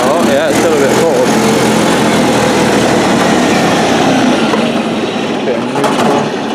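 A Honda X4 motorcycle engine idles in neutral on level ground, still a bit cold, giving a steady, loud, continuous rumble with a slight fluctuating tone throughout.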